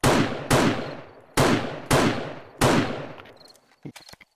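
A military sniper rifle fires in the video game 7 Days To Die: five loud, sharp shots about half a second apart, each ringing out with a decaying tail, followed by the clicks and clacks of a reload.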